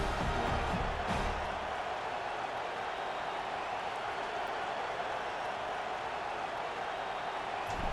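Stadium crowd noise at kickoff in the EA Sports College Football 26 video game, a steady broadband roar that holds at an even level throughout, with no talk over it.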